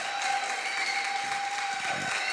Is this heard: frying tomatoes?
no